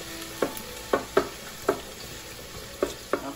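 Beef curry sizzles steadily in a pot while a spoon stirs it, with several distinct scrapes and knocks against the pot over a constant frying hiss.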